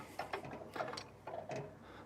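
Logosol Big Mill Wide Slabber chainsaw mill rig being lifted back to its start position on plastic slides, giving a few quiet mechanical clicks and rattles in quick succession, faint and close.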